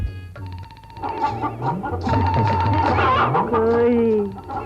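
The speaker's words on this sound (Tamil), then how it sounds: "உயிரோட கோழி" A live chicken clucks and squawks close by, repeated bursts over several seconds mixed with other voices and background sound from a Tamil romantic film scene.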